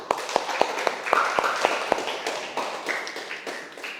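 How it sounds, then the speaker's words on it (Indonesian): A classroom of students claps for a presenting group, starting with a few sharp rhythmic claps that quickly swell into dense, steady applause nearby. "Kasih tepuk tangan untuk kelompok 2."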